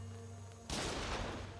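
A cannon enemy fires in the Moonlighter dungeon game. One abrupt, loud blast cuts through a steady low hum and then trails off into noisy rumble.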